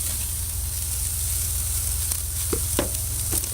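Boneless petite sirloin steaks sizzle steadily over hot charcoal on a grill, a loud, close, continuous hiss with a few faint clicks near the end.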